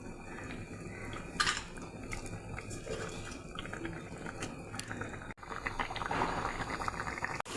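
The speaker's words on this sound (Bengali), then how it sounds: "এই যে দেখুন ঝোলটা ফুটে গেছে" Fish curry gravy bubbles and simmers in a pot, a soft, continuous stream of small pops and gurgles heard close up, fairly quiet, with a brief clatter midway.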